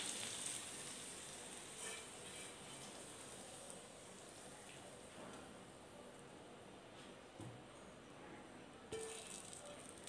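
Hot tadka with Kashmiri chilli powder poured into a paneer curry, a steady, fairly quiet crackling sizzle that sounds like light rain and continues throughout.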